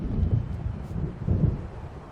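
A thunderstorm rolls in Alan Wake Remastered, with low continuous rumbling thunder and wind-driven rain noise, swelling in two deep pulses over steady storm background.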